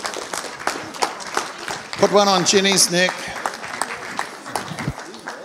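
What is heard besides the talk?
church congregation applause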